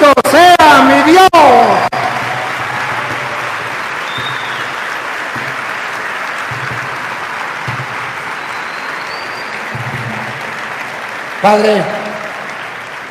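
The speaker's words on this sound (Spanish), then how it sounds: "¡Aplausos para el Señor!" A church audience applauds for the Lord in a sustained, even roar of clapping after a short spoken phrase, with a voice cutting in again briefly near the end.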